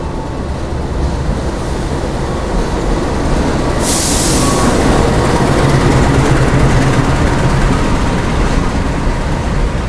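The Tawang Alun passenger train, hauled by two locomotives in double traction, rumbles steadily along the line, a loud continuous roar of wheels and engine noise heard from on board, with a brief hissing burst partway through.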